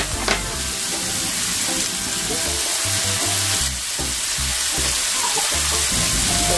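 Bacon and meat frying in a pan, a loud, steady sizzle with crackling spatter and occasional stirring, running continuously without speech.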